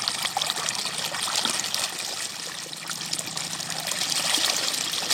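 Water gushing steadily from the end of a hose fed by a 3-inch Ebara pump driven by an 8.5 HP Yanmar diesel engine, a continuous close splashing rush with no talk.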